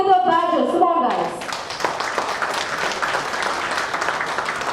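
A crowd at a corporate cricket league player auction bursts into applause and cheering for the Kolkata Badgers, clapping rising sharply after an announcer's voice and continuing steadily.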